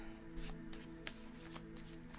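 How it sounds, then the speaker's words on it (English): Tarot cards shuffled by hand, a series of quiet papery riffles and light taps in an uneven rhythm, close and faint, with no talk. "Let's do 3 shuffles."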